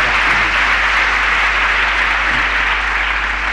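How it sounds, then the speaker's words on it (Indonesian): A church congregation applauds during an evangelist's sermon, a steady, dense patter of many hands clapping together over a constant low electrical hum, loud and unbroken for several seconds. "jangan tepuk tangan dulu"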